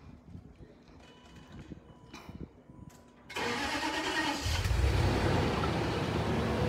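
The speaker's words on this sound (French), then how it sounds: "Il faut mettre le moteur en marche." A Range Rover's engine is cranked and catches, settling into a steady loud idle after a few seconds of quieter clicks and handling noises beforehand.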